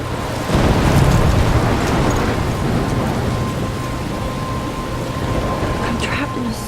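Thunderstorm with heavy rain in the video game Life is Strange, a loud rumbling crash of thunder up front giving way to a steady roar of downpour that continues alone.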